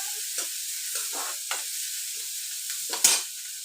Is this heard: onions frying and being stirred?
yes